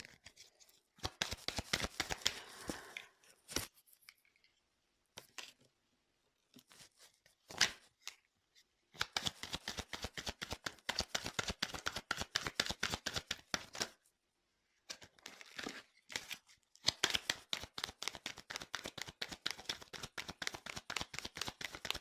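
Tarot cards shuffled by hand during a reading, with long runs of fast, dry riffling clicks broken by short silences and isolated taps as cards are cut and set down, close and fairly loud.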